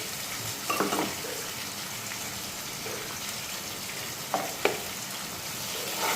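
Spice paste with onion and green chili frying in a pan, a continuous close sizzle with a few brief stirring scrapes and bursts of louder hissing, no talking.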